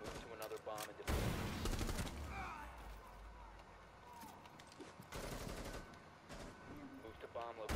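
Gunfire in the video game Rainbow Six Siege, with loud bursts of rapid shots and single cracks layered over a busy, dense game mix throughout.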